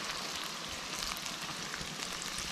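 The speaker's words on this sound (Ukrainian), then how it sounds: "І все це також смажимо до того часу, поки морква не набуде такого бронзового кольору" Carrots frying in oil in a pan for plov, a continuous, even sizzle with fine crackling and no pauses, close and moderately loud.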